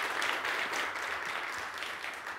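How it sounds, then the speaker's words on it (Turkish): An audience at a Mevlid recitation competition applauds a departing contestant with continuous, evenly textured clapping that sounds fairly soft and distant, with no talking. "Sizleri uğurluyoruz. Alkışlarla."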